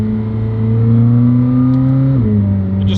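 A McLaren sports car engine drones loud and close as a steady, throaty hum, then drops in pitch briefly as the gear changes, and the drone carries on.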